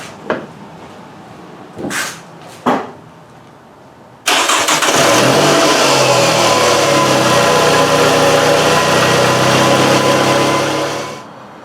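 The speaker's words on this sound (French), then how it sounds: "Bon, je suis prêt à démarrer" A 2009 Pontiac Vibe's engine cranks and catches abruptly after a few quiet knocks, then settles into a loud, steady idle that runs for several seconds before cutting off near the end.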